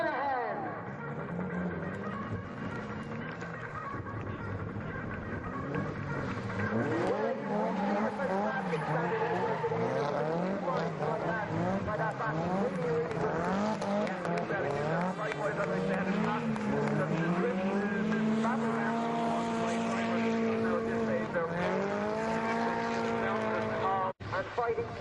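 Dennis Healy's drift car roars through a run at Sturup, Sweden, its engine revving and wailing with rising and falling pitch and tire squeal, loud and sustained throughout the whole stretch.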